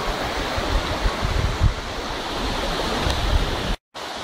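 Pa La-u forest waterfall roars with a steady, dense rush of falling water, loud and close, with no voices, cut by a brief dropout near the end.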